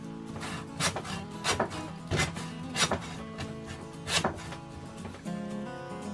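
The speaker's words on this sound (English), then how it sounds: "we'll just take our bone saw and we'll just cut" Bone saw cutting through a rack of pork ribs during home butchering, with rhythmic strokes repeating roughly every half second to second, close and fairly loud, alone without talk.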